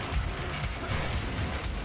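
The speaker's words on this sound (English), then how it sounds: "The rockets aren't doing nothing to him." Rocket explosions in Destiny: Rise of Iron form a dense, continuous roar of booming blasts with heavy low rumble, loud and close throughout with no talking.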